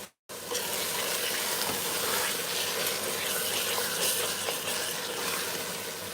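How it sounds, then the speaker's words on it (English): A pepper base for Jollof rice frying in a pan, a dense, even sizzle with faint stirring scrapes, close and continuous for several seconds after a brief silent start. "So we'll just keep frying that."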